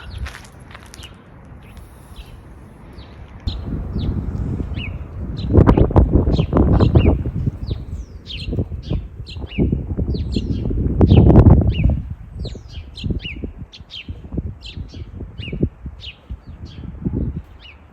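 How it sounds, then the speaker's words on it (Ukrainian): Small birds chirping outdoors in repeated high, quick tweets scattered throughout, with footsteps crunching and rustling close by as someone walks past. "проходила повз, а вони ж цвірінькають"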